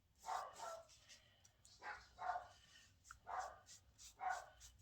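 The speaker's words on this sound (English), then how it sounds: "I really apologize for the barking dog." A dog barks in the background of an indoor craft session, giving about six sharp barks in irregular pairs and singles, moderately faint and with no other sound.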